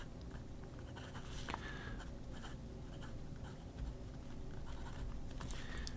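Scratchy nib strokes from a Jinhao 100 fountain pen with a number 6 steel nib, writing steadily on paper in a quiet room, with faint taps and scrapes.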